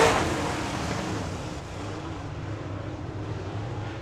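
Dirt track race cars roar along the front straightaway at Victory Lane Speedway in Manitoba, a loud, steady engine drone that swells at the start and then holds as a continuous rumble with no talk.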